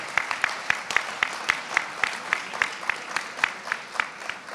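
Audience applause at a pro-Israel gathering honoring a man's military service, rhythmic, evenly paced clapping from the room, moderately loud and steady throughout.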